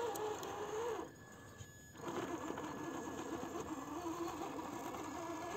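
Traxxas TRX-4 Sport RC truck with a 550 motor climbing terrain: a thin, steady electric whine that drops briefly mid-climb then resumes, fairly faint and close, with no voices.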